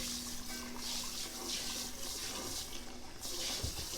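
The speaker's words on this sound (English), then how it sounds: "Rinse the sink out." Tap water runs steadily into a sink as it is rinsed out, a continuous close hiss and splash with no break.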